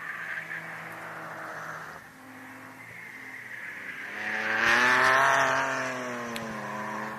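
A 1993 Mazda RX-7 race car at Mid-Ohio sweeps through turn 11 in time attack, its engine note rising as it approaches, peaking loud and close with a tire squeal, then sliding away.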